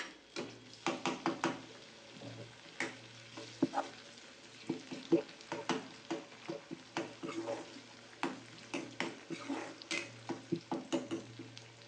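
Onion and ground masala paste sizzle in a pan for dry chicken sukka, as a spoon scrapes and knocks against the pan in a steady, repeated rhythm at close range, with a low continuous hum underneath.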